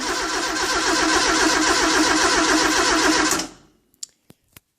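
A 1973 Alpine A110 1300 VC engine cranks over steadily without firing, a loud dense churning whir that runs for about three seconds and then stops, followed by a few sharp clicks.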